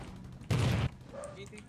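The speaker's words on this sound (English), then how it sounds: "May malapit na gunshot sa inyo, ah." A short loud burst of gunfire in the mobile battle royale game Rules of Survival, a single rapid volley lasting under half a second, with players talking around it.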